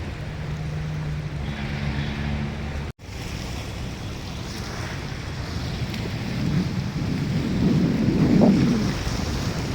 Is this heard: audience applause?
no